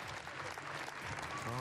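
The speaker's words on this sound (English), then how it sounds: "Really good reception from the crowd here." A crowd claps and cheers after a rhythmic gymnastics routine at the 2019 Portimao World Cup hoop and ball finals, dense continuous applause with a voice near the end.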